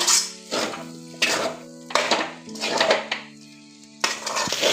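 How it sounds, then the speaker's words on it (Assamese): Egg chowmein being fried and stirred in a pan, with repeated scraping and clattering of a utensil against the metal over a steady sizzle, close and fairly loud in several bursts. "দি ৰখা ডিমখিনি মই ইয়াতে দি দিম এখন ভালদৰে মিলাই লৈ এনেদৰে ভাজি থাকিব লাগিব 5 মিনিট"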